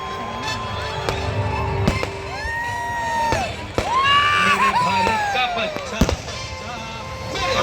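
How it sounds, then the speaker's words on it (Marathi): Firecrackers and fireworks pop and bang repeatedly at a midnight New Year celebration in Devgad, with sharp cracks, whistling rockets rising, and crowd noise with voices throughout. "आता मोठे फटाके लावतात"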